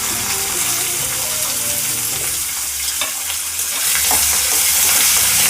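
Dried chillies, mustard seeds, curry leaves and chopped onion fry in hot oil, giving a steady loud sizzle with occasional stirring scrapes and a fuller crackle toward the end.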